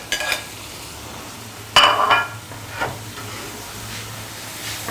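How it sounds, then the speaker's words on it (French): Tomato in a frying pan cooks on low heat with a soft background hiss, broken by a sharp clatter of a utensil against the pan near the middle and a fainter scrape later. "dans notre poêle, nous avons la tomate que nous allons laisser mijoter"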